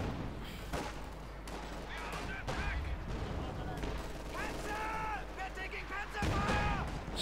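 Battle gunfire from the Company of Heroes 2 strategy game, with repeated rifle and machine-gun bursts and scattered shots rising and falling under a commentator's continuous voice.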